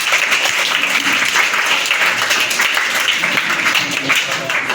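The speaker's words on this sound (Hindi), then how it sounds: "उनके लिए जोरदार ताली बजाइए।" Loud, sustained applause from a crowd at a Teacher's Day school gathering, a dense continuous wash of clapping at steady volume throughout.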